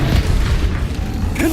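The Confringo spell in Hogwarts Legacy sets off a deep, booming explosion that stays heavy and rumbling for over a second, loud and close with a brief bright flicker near the end.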